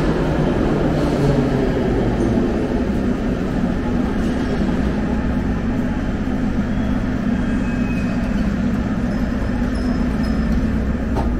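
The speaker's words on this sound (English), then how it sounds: "here comes the subway car" An old Soviet-era subway train arriving at a Minsk metro station, a steady loud rumble of wheels and motors filling the platform throughout, with no talk.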